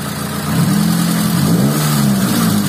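Motorcycle engine revving loud and close before an ignition module is fitted, a steady mid-pitched roar that rises after half a second and holds with slight throttle swells, no talk.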